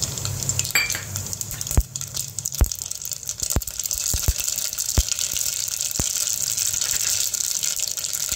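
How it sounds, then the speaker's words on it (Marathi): Mustard seeds sizzle steadily in hot oil for a homemade vegetable dish, a loud continuous frying hiss broken by several sharp pops and crackles, with no talking. "आपण आता गरम तेल झालं त्याच्यात मोहरी टाकूयात"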